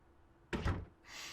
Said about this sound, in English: Then I saw the door shut behind me.